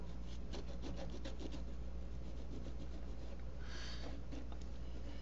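Quiet rubbing and scraping as materials are rubbed onto a steampunk craft box, several short strokes over a low steady hum.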